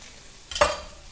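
A short burst of stirring in a frying pan as ginger and green chilies are mixed, a brief scraping sizzle that rises suddenly and fades over about half a second, with no talking.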